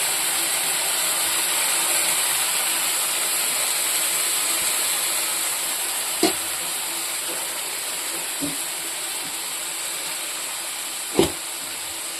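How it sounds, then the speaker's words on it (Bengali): Raw fish dropped into a pan of hot fried spices gives a loud, steady broadband sizzle that holds throughout, with a couple of brief clinks from the pan. "মশলাটা আমার ভাজা হয়ে গেছে। আর এই কাঁচা মাছটা আমি ছেড়ে দেবো।"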